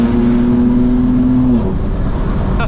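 A 2025 BMW M4 Competition drives through a tunnel with its engine droning loud and close at a steady pitch. The pitch dips briefly partway through, and no one speaks.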